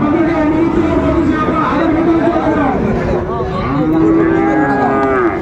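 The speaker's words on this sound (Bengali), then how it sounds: "বেশ সুন্দর ষাঁড়টি আমরা দেখছিলাম।" A bull at a Friesian and crossbred cattle market in Dinajpur moos loudly and repeatedly up close, long drawn-out calls with other cattle lowing around it over steady crowd chatter.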